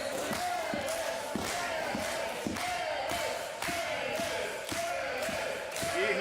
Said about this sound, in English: You hear the crowd chanting for Aliss.